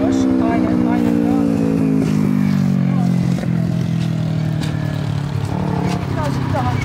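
Motorcycle engine held near, its low steady drone rising gradually as throttle is slowly applied during a riding lesson, with an instructor talking over it throughout.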